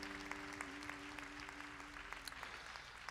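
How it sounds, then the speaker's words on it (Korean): Church youth congregation clapping in encouragement at a short-term mission report service, a soft, even patter of many hands continuing throughout. "저 앞에 있는 분들을 좀 믿음으로 축복하며 격려의 박수 한번 좀 보내드립시다"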